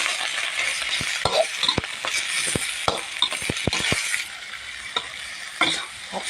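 Rice being stir-fried in a pan, with a spatula scraping in quick, regular strokes over a steady, loud sizzle close by, and no talking.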